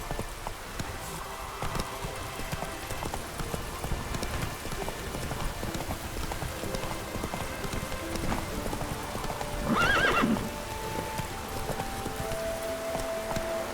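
A horse ridden in The Witcher 3 video game, its hooves beating a steady, continuous clip-clop over ambient background, with a short whinny rising near the end.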